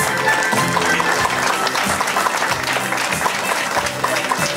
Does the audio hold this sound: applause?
yes